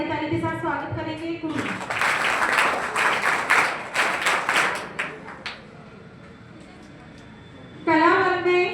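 A crowd at a 12th-grade board exam award ceremony breaks into loud applause lasting several seconds, fading into a quieter stretch, with someone speaking over a microphone before and after.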